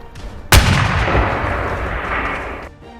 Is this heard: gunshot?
yes